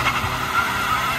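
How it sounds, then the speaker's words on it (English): Supercharged Mercedes C230 drift car with its ABS unplugged does a burnout, a brief, loud, steady squeal of spinning tyres over engine roar. "So we just took the ABS apart, like just unplugged it to see if it'll do a burnout."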